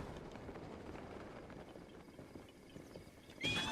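A horse in a video game gives hoof clip-clops and a short whinny inside a steady, noisy game ambience, ending with a louder, brighter burst.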